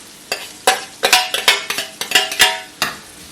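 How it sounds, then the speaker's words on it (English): Garlic added to onions frying in a pan, a close, loud sizzle broken by repeated scraping stirs and clinks of a utensil against the pan, about a dozen strokes in quick succession with no talking. "Just fry this garlic for like 2 minutes."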